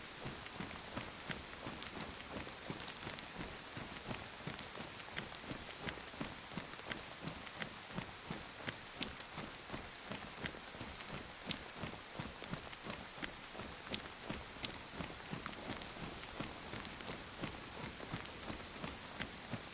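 Steady rain falls in DayZ gameplay, a constant dense patter of drops across the whole stretch, fairly quiet and even with no voices over it.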